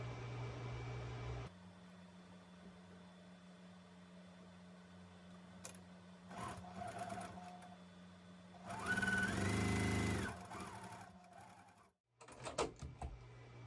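A sewing machine stitches along a drawn line on a rose quilt block with a steady mechanical whir. There are several short bursts and one longer, louder run, broken by pauses filled with quiet handling clicks.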